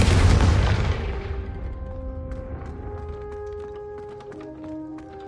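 Confringo fire spell explosion in Hogwarts Legacy on PS5, a loud, booming blast that decays into a ringing, tonal tail with light magical chimes and taps.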